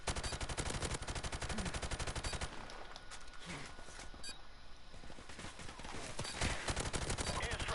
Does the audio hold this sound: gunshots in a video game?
yes